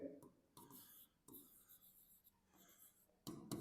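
A pen writing on paper in an accounts lesson, with several short bursts of scratching strokes separated by brief pauses, close and quiet.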